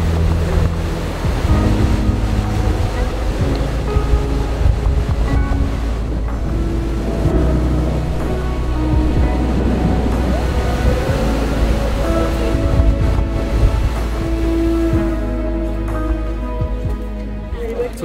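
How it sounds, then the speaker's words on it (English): Wild ocean surf rolls and crashes beside coastal ramparts in Morocco, a loud continuous roar of waves mixed with wind buffeting the microphone, with faint voices at times. "the ocean is amazing"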